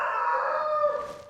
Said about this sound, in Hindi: इन मुर्गों ने सुबह 4 बजे से आपस में ऐसी मुलाकातें शुरू की हैं कि यहाँ से ये जवाब देता है, वहाँ से वो जवाब देता है।